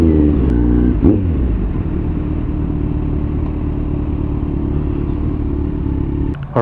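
Kawasaki Z900 motorcycle with a loud exhaust at full blast while riding, a steady close, heavy rumbling drone with a brief rev change near the start and a small dip at the end, no voices.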